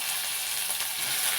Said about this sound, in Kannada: ಆಯಿಲ್ ಸ್ವಲ್ಪ ಬಿಸಿ ಆದ ನಂತರ ಟೊಮೆಟೊವನ್ನು ಹಾಕೋಣ.